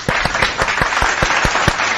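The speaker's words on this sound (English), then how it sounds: "Let's give Shelly a round of applause too." A show's audience gives a round of applause, steady dense clapping for about two seconds with several sharp, evenly spaced louder claps standing out near the front.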